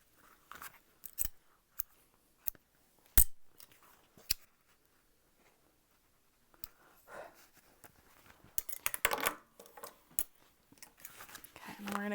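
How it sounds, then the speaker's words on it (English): Scissors snip through fabric to cut open a simple zipper pocket while sewing a bag, with a series of sharp, separate close cuts followed by rustling handling of the material. "We're going to cut this open."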